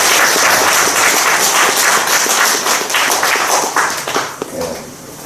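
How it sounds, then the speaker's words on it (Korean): A church congregation at a Korean evening Bible-exposition service applauds one another, giving loud, dense clapping that gradually thins and tapers into a few scattered claps. "우리 서로 박수를."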